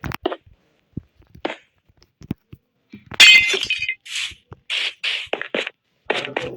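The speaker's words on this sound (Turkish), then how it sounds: "Demek ki tokuşturunca ikisi de kırılıyormuş." Two drinking glasses clink together and both break, giving a sharp, loud shattering crack followed by several scattered tinkling bits of glass, with a few soft knocks beforehand.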